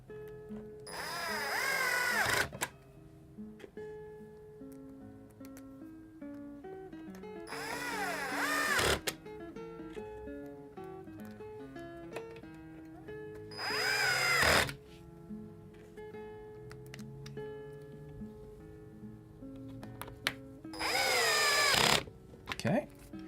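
A power drill drives short countersunk screws into a paper-craft organizer in four separate high whirring bursts, each a couple of seconds long, close and loud, separated by quieter handling sounds.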